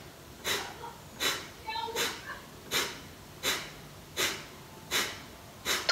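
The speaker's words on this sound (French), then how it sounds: "Nouvelle série de 5 fois 10 Kapalabhati. Première, expire, expire, expire, expire" Forceful Kapalabhati exhalations from morning yoga breathing practice: about eight sharp, breathy nasal puffs in a steady, even rhythm, each short and close, with quiet gaps between them.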